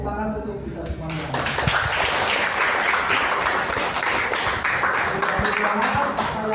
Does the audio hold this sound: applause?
yes